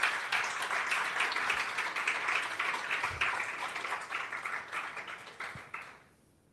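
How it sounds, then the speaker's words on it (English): A room full of people claps steadily for several seconds, the applause fading out at the end. "So big round of applause to Irina for managing all of this."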